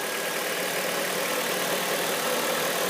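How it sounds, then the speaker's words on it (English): A 2002 Honda CR-V engine idling while warming up after an engine swap, a steady, even hum heard close and alone for the whole stretch. "The idle speed is decreasing as it's warming up."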